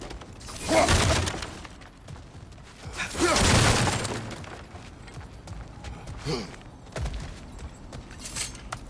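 Objects smashing in the action game God of War Ragnarok, heard as loud crashes and clattering debris in a few bursts, with a shorter rattle later, close and without talking.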